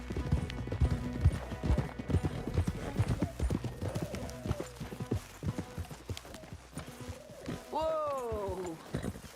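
Horses in Red Dead Redemption 2 clip-clopping with rhythmic hoof strikes, close and fairly loud, with snorts and a clear whinny near the end, partly under game dialogue.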